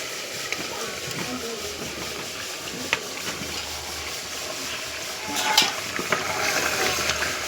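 Potatoes stirred into cooked-down beef for a village-style kachi biryani, a soft sizzle with scattered spoon scrapes and clinks against the pot, growing busier near the end, close and without talk.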